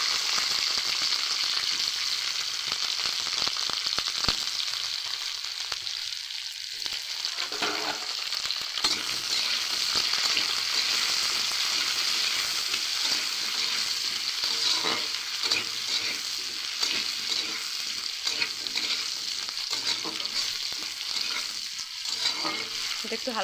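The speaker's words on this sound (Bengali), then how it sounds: "এটা একটু হালকা ভাজা হতে থাক" Potatoes and papaya with onion fry in a pan while being stirred, a dense continuous sizzle with scraping stir sounds, close and loud, lasting the whole stretch with no talking.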